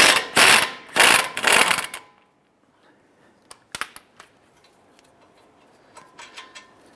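A ratchet clicks rapidly in a few loud close bursts while a bolt is loosened on the front suspension of a 2009-2015 Honda Pilot, followed by quieter scattered metallic taps and clinks.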